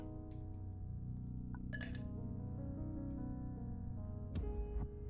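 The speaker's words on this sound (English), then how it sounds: "Get a couple ice cubes going." Ice cubes drop into a glass in The Red Strings Club, bright clinks and a short rattle over a steady background music bed, with a final sharper clink near the end.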